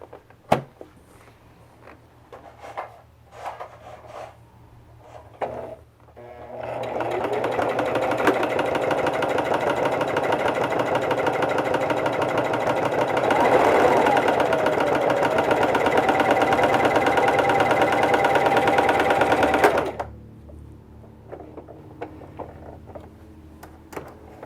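A sewing machine stitches the center seams of a fabric face mask, a steady mechanical whir running about thirteen seconds, slightly louder in the middle, with quiet handling noises before and after.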